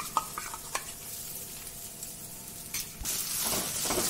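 Moong dal stirred and fried in plenty of hot oil in a kadhai, a steady close sizzle with scraping spoon strokes that swells louder and brighter toward the end.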